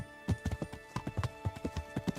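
Horse hooves clip-clopping in a steady walking rhythm in Kingdom Come: Deliverance, a dozen or so distinct close hoof strikes, light and alone.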